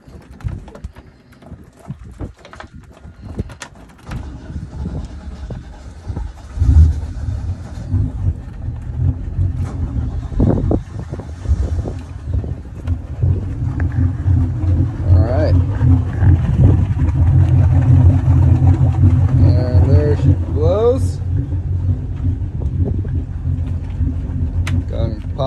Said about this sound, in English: we're gonna go ahead and see how easy it is to hear these motors crank up